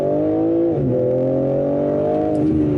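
A BMW M3 G80 engine revs hard and steady up close during a launch-control start from 3,000 rpm, its pitch climbing and dropping slightly as the car accelerates, with no talking.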